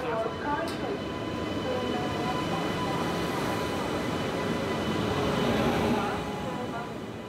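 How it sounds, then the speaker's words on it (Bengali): The Amrit Bharat Express, train 15557, pulls out of a station, heard from inside the carriage as a steady low rumble and rolling wheel noise that swells slightly before easing off. "ফাইনালি 28 মিনিট লেটে আমাদের ট্রেন ছাড়লো।"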